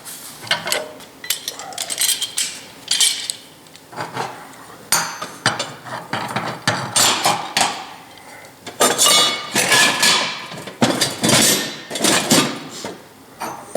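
Pieces of quarter-inch steel are set in place and a large clamp is tightened before welding, giving irregular metallic clanks, knocks and clattering over about fourteen seconds, close and fairly loud, with no speech.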